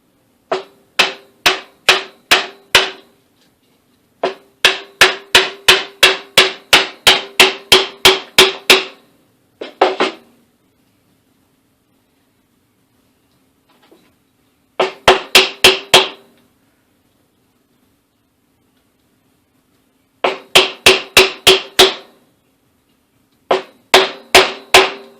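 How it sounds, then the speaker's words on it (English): Sharp wooden knocks from a homemade wooden gavel driving a handle into a scrap-lumber Mjolnir head, struck in quick bursts of about five to twelve blows separated by pauses, loud and close with no talking. "Okay, and we'll drive this handle down in there. I've got the perfect tool for that, a gavel I made about 3 years ago."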